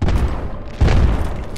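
Two heavy bomb blasts in the video game Eastward, the first at the start and a second louder boom a moment later, each with a deep rumbling tail.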